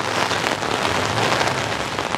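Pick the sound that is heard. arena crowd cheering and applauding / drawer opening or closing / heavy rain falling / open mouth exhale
heavy rain falling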